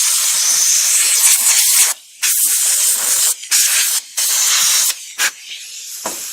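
Compressed air blasts out of a nozzle to clean chainsaw parts, a loud sustained hiss broken by several brief pauses. The bursts grow shorter and weaker toward the end as the air supply runs low.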